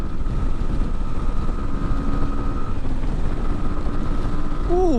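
A 2020 Sinnis Terrain 125 motorcycle drones steadily at high revs in fifth gear, with loud, constant engine noise buffeted by rushing wind and a brief rising whine near the end.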